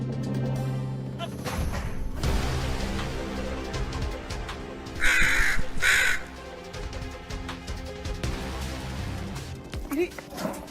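A crow caws in two loud bursts in the middle of the scene, with background noise, bumps and a voice talking around it.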